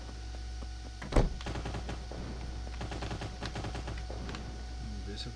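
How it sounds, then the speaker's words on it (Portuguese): Bursts of gunfire in the video game Cyber Hunter crackle in quick rapid volleys after one heavy shot, with a voice speaking now and then over the shooting. "tem tiro aqui pra frente"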